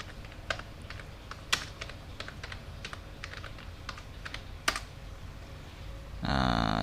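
Typing on a computer keyboard, a quick run of light clicks and sharper key taps at an irregular pace, close by, with no talk over it before a brief burst of other noise at the end.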